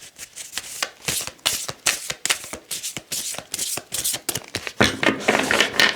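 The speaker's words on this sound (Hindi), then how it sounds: "ये थोड़ा बड़ा डेक है तो मेरे हाथ छोटे हैं, इस वजह से मैं ऐसे शफलिंग कर रही हूँ" A large tarot deck is shuffled by hand, close and crisp, with rapid repeated riffling bursts of card flicks following one another in an uneven rhythm.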